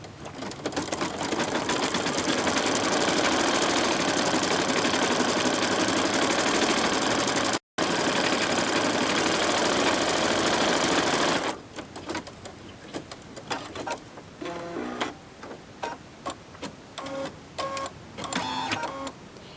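A computerized embroidery machine stitches a final outline in black thread over a layered Mylar design, a loud, steady rapid stitching whir that briefly cuts out, then continues as quieter, irregular bursts of stitching and clicks.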